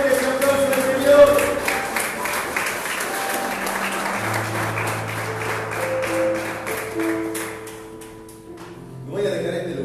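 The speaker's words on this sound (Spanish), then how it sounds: "Dale más fuerte ese aplauso al Señor." A church congregation applauds in sustained, steady clapping over held keyboard-like music tones, fading briefly near the end before a short swell.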